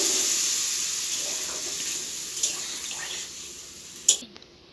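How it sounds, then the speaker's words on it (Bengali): Broth poured into a jackfruit and paneer curry cooking in a pan, a steady watery rush and hiss that fades, then a brief clank near the end. "দিয়ে দিচ্ছি ঝোল।"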